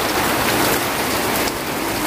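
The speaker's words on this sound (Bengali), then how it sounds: "দেখো কি হারে মুষলধারে বৃষ্টি হচ্ছে" A heavy downpour of rain falls steadily as a dense, loud hiss that fills the whole moment, with no talking.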